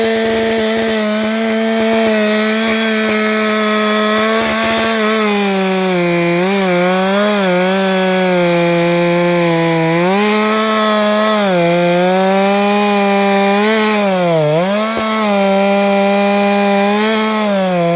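Chainsaw cutting large log rounds in half, a loud, close, continuous engine drone whose pitch sags and recovers as the chain bites into the wood, with no talking.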